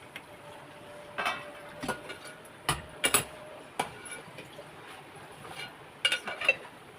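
A metal lid lifted off a cooking pot of fresh jawla (small shrimp, kolim) curry: soft scattered clinks, taps and clanks come close and fairly quiet, with a few sharper metallic knocks and no voices.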